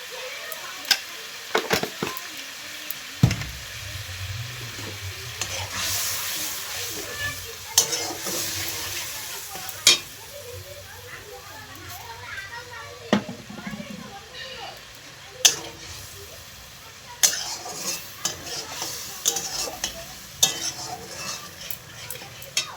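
Food frying in a pan with turmeric and salt, a continuous sizzle with repeated scraping and clinking as it is stirred, while a person talks over it.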